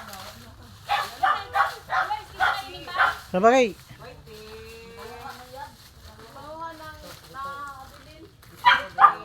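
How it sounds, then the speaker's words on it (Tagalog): Dogs bark and yip in short bursts along a rural path to a farm, with a whimpering note between barks and people talking over them. "nakakatakot naman yung mga aso."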